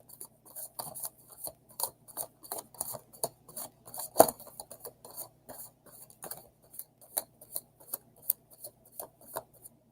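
Tarot cards being shuffled messily during a live reading, making a rapid run of light papery snaps and flicks with one louder slap midway, close and steady throughout with no talking.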